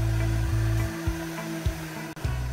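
A carpet shampoo extractor vacuum runs on car carpet, a steady loud motor drone with brief dips and surges as the tool moves over the fabric, with no talking.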